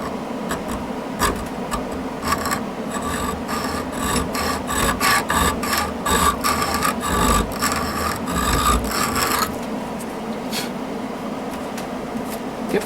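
Hand sanding a carved wooden beaver, a close, loud rasping rub in quick repeated strokes that speeds into a dense burst, then stops, leaving a few scattered scrapes.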